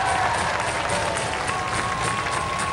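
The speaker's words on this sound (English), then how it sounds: "Give them a round of applause, ladies and gentlemen." A studio audience at a robot combat show gives steady, continuous applause, a dense even wash of many hands with crowd noise blended in.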